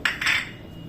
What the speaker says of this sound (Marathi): आता आपण यामध्ये रवा घालून छान असं मिक्स करून घ्यायचं आहे